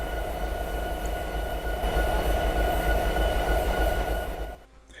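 Train in Train Simulator 2017 creeping slowly along the track, a steady low rumble with a mechanical drone and faint rail noise that holds for several seconds, then drops off sharply as the train comes to a stop.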